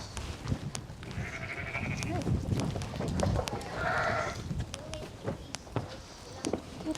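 Sheep bleat repeatedly on a farm during lambing season, several wavering calls at close to mid distance amid shuffling, footsteps and a faint voice in the background.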